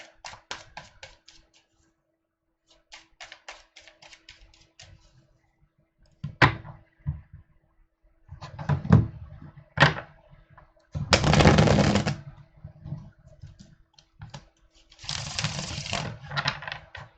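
Tarot cards are shuffled by hand in several bursts of rapid riffling and fluttering, with short taps and pauses between, close and fairly loud, no talk.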